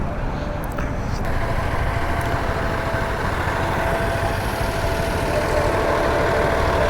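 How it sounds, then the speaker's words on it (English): A city bus engine idles at a Chicago street intersection, a steady low rumble that runs loud and continuous through the whole stretch without pauses. "Hello, noisy bus."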